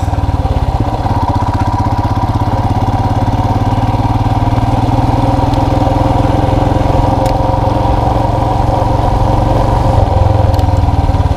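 A motorcycle engine running steadily for the whole stretch, a loud continuous low drone with a rough, pulsing texture and some wind rush, as if heard from the rider's position while riding on a chilly day. No talking.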